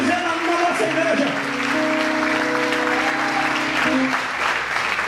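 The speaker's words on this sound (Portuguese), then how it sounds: "Você pode aplaudir o Senhor." A church congregation applauds steadily during worship, with sustained clapping mixed with sung or shouted voices and a held musical tone underneath.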